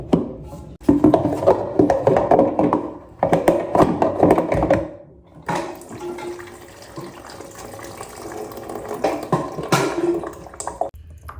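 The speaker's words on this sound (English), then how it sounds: "lift that out and let the water dump out into a little catch basin" Water dumps from a toilet tank into a small catch basin, a close splashing gush in irregular bursts that eases into a lighter trickle and drip toward the end.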